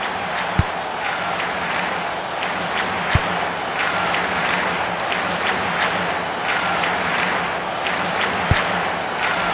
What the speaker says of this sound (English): crowd starting to lose interest in the game.